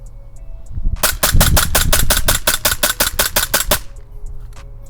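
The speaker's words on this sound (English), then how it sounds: "let's do a rapid fire shoot now" An ICS XPD Black Leopard airsoft BB pistol fires in rapid succession, about fourteen sharp, loud cracks in a quick even rhythm, close to the listener, then stops.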